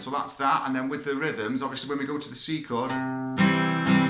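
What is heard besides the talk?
No everyday noises stand out.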